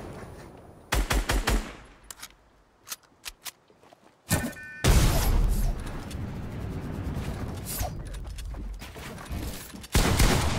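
Gunfire from sniper rifles in a Fortnite Creative match, with sharp shots in a scattered burst early on and more bursts later, followed by a long, dense stretch of loud game noise.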